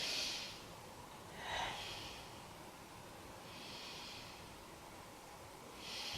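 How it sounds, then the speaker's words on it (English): Slow, faint breaths during a yoga pose, with a few soft hissing inhales and exhales spaced a couple of seconds apart in a quiet room. "So let's take 3 breaths here"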